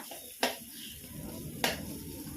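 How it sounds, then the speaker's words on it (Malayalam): Vegetables sautéing in oil in a pan for a Brahmin kootu curry, a quiet steady sizzle broken by two sharp clinks of a utensil against the pan. "അപ്പോൾ അതിന് വേണ്ടിയിട്ടാണ് ഞാനിതൊന്ന് വഴറ്റിയെടുക്കുന്നത്"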